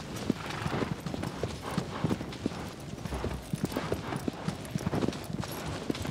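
A horse's hooves clip-clop steadily in the video game Shadow of the Colossus, a fairly close, rhythmic run of sharp hoofbeats lasting the whole stretch.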